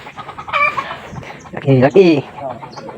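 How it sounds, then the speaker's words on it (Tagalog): Chickens cluck and squawk close by in short bursts, with a few louder agitated calls among them. "Yung mga manok yan guys."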